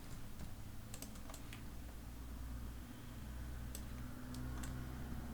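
Quiet, scattered keystrokes tap on a computer keyboard over a steady low hum while someone works in Rhino 3D modeling software, with short bursts and pauses and no talking.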